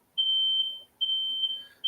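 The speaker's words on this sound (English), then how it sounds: "I think my damn fire alarm being set off." A home smoke alarm sounds repeated loud, shrill beeps in a steady rhythm, each lasting about three-quarters of a second, with no talk over it.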